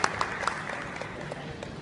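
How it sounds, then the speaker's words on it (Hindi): Audience applause at a Hindi stage performance, a steady wash of clapping with a few sharp claps standing out early, fairly loud and even throughout. "एक बार जोरदार तालियां।"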